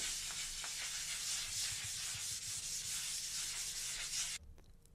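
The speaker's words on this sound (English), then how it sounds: "all we have to do is just wet sand again with 600 just to lose the ridges" Steady close-up rubbing and scraping as 600-grit wet-and-dry paper is worked over the shell of a crash helmet, continuous for most of the stretch before cutting off near the end.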